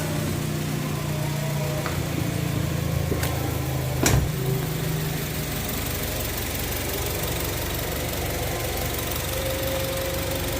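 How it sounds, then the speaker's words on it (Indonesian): A car engine running steadily just after being started in neutral during a power outage, a continuous low rumble with a brief louder knock partway through, no talking. "Oke, ini mesin mobil udah nyala."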